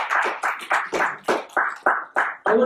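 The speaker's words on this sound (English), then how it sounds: "Can we have a round of applause for sir?" A few hands clap in slow, separate bursts at the inauguration of a pharmaceutical conference, each clap distinct and close, with no talk over them.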